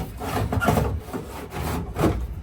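A furnace blower motor is dragged along its metal tracks back into place, giving a steady scraping, rubbing slide with a few louder pushes over a couple of seconds, close up and with no speech.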